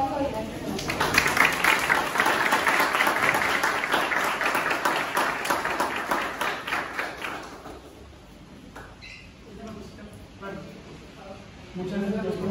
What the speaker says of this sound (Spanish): un aplauso y gracias